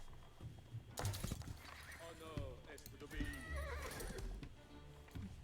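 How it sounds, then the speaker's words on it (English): Horses in the video game Age of Empires IV give several loud, shrill neighs and whinnies, spaced out over a few seconds, over the clatter of hooves and battle noise. "Horses."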